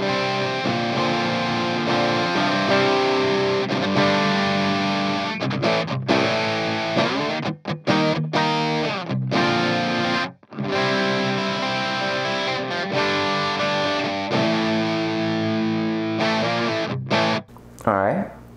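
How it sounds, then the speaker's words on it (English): An electric guitar plays through a Digitech DF-7 Distortion Factory pedal on its first setting, loud saturated chords and riffs with a few abrupt stops between phrases. "this is what the Distortion Factory sounds like on number one"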